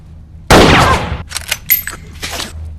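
A single loud gunshot in the western horror film Bone Tomahawk cracks out sharply up close, followed by a short decaying rumble and scattered softer sounds.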